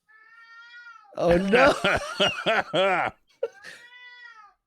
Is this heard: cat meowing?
yes